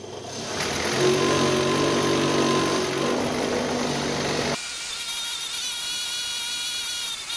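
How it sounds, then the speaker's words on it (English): A drill spins a wire brush against a metal suspension pin, giving a steady whirring drone with scrubbing texture for about four and a half seconds before it drops to a quieter, thinner hum. "you wire brush and a drill will do exactly the same thing"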